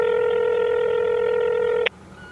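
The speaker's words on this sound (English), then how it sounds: "He dials his cell phone." A cell phone gives a loud, close, steady electronic tone held for almost two seconds, then it cuts off abruptly into quiet background.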